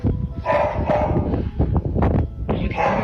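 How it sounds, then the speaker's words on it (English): A dog barks and yips in short bursts near a farm with cows and other animals, the sounds moderately loud and irregular, mixed with other noises. "Dog."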